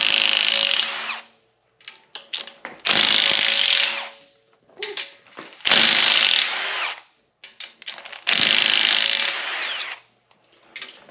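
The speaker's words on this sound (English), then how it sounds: "You can do that with a 1/2 inch rattle gun." Half-inch impact wrench zipping bolts off a Mazda 13B rotary engine during a teardown: four loud, close bursts of rapid hammering, each lasting one to two seconds, separated by brief pauses with small clinks.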